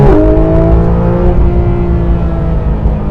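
A Porsche GT3 RS engine roars loudly and steadily in first gear, holding a strong low drone with rising harmonic tones as it pulls away, no voices present.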